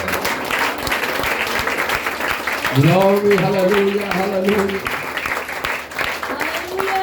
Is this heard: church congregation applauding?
yes